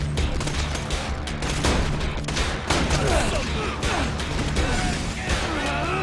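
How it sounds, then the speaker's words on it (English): Rocket launcher fire and explosions in the Xbox 360 shooter Borderlands 2 make a dense, continuous barrage of blasts, crashes and gunfire mixed with game music and effects, loud throughout. "Switch to rocket launcher."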